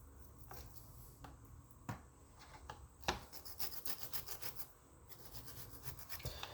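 A knife trims the bones of a rack of lamb, giving soft repeated scraping and rasping strokes with a few sharper clicks against bone, quiet and close.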